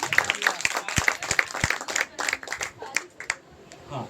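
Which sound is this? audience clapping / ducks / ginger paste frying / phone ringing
audience clapping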